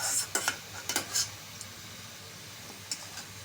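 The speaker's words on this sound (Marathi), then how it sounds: "काजू तळून झाले काढून घेऊया डिशमध्ये." Fried cashews are scooped from a pan of ghee into a dish, with a few quick metallic clinks and scrapes of a spoon against the pan over a soft, steady sizzle.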